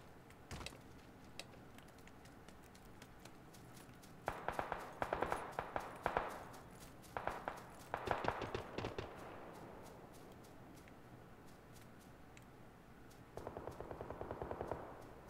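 Bursts of rapid video game gunfire, distant to mid-range, coming in several separate automatic volleys with single shots and quiet pauses between them.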